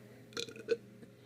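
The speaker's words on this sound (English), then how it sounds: "Every time we hear someone burp like this," A single burp, one short belch rising and fading, heard alone and at moderate volume.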